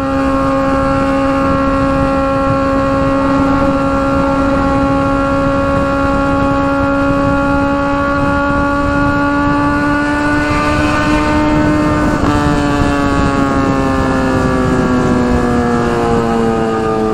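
A Honda Hornet motorcycle with a 4x1 exhaust cruises a highway in fifth or sixth gear, its loud, steady high-pitched engine whine holding for a long stretch before the pitch briefly drops and eases down, with wind noise.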